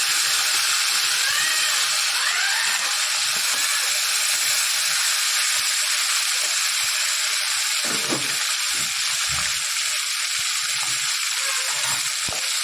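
Cumin seeds crackle and fry in hot oil at the start of a coriander tomato chutney, a loud, continuous sizzle that lasts throughout with no voices.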